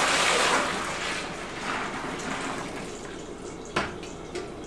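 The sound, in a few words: cooled Belgian whitbeer wort poured into a fermentation bucket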